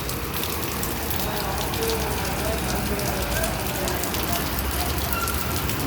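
Heavy rain pours onto a road outside a motorcycle shop, where water is pooling. It makes a dense, constant hiss and patter with no break for the whole stretch.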